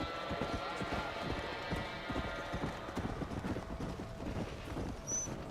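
Horse hooves galloping in Red Dead Redemption, a fast steady clip-clop rhythm up close over a constant background hum, with no one talking.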